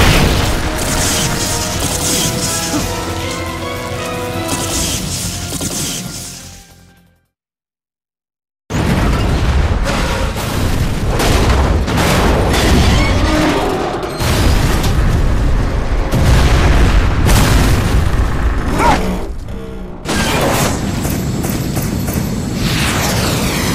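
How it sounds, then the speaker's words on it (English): Supporting artillery fire booms repeatedly in loud, dense bursts of deep explosions, with a brief silent gap before the heavy barrage resumes and continues. "They've okayed the request for supporting fire."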